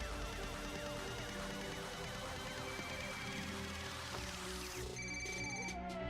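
A telephone rings in the video game Ghost Recon, with repeated electronic ring tones over a dense, layered game soundscape that thins out near the end.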